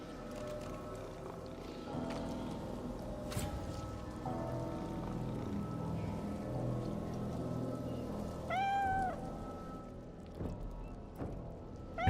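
A cat meows in the fantasy role-playing game Divinity: Original Sin 2, a short rising-and-falling call heard once over a steady ambient game soundscape.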